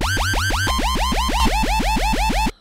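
A bleepy dubstep bass synth made in Reason, EQ'd with the Q at 2, pulses in a fast steady stream of about a dozen swooping, wobbly notes with a bright resonant sweep on each, then cuts off abruptly.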